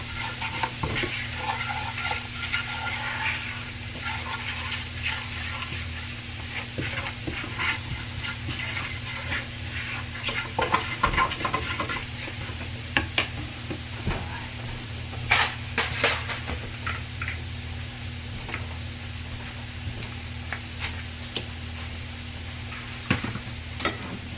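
Thyme stirred around in a buttered frying pan, producing a continuous soft sizzle with repeated scraping and clinking stirs at close range, some sharper knocks later on, and no speech.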